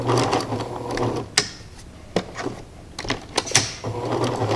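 A sewing machine stitches heavy skirt fabric, running in short buzzing bursts at the start and end with clicks and handling knocks in between, close and fairly quiet.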